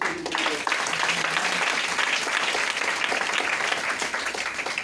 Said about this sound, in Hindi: ताली बजाते बजाते थक जाएंगे आज।